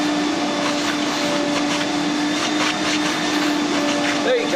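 A wet vacuum pulls foamy defoamer solution out of a carpet during red stain removal, a steady loud droning whine that holds evenly throughout with no talking.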